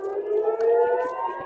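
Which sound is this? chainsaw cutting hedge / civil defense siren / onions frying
civil defense siren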